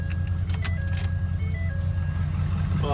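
A 2012 Ford F250 pickup with a tuned, deleted 6.7 Powerstroke diesel idles steadily up close, a loud continuous low rumble with faint light jingling above it and no talk.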